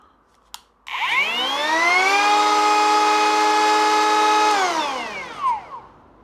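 A low-cost Mellif cordless drill on a DeWalt battery whirs up to speed with a soft start, holds a steady high whine for a few seconds, then winds down to a stop.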